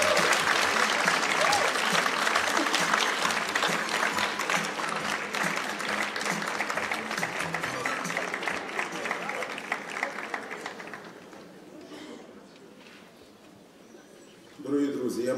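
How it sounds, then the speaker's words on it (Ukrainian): An audience at a philharmonic anniversary concert applauds loudly and steadily for about eleven seconds, then the clapping thins and fades, and a short burst of sound comes in at the very end. "Аплодисменти вам."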